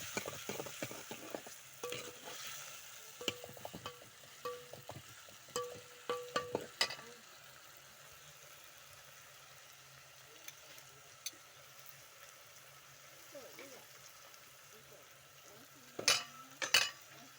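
Tomatoes fry in hot oil in a pot over a wood fire as a utensil stirs them, with scraping clinks and stirring strokes in a bursty run, then a quieter sizzle and a few closing clinks.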